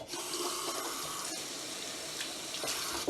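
Tap water runs steadily from a faucet into a sink to wet Scotch-Brite non-scratch scour pads, a continuous close splashing hiss with no talking.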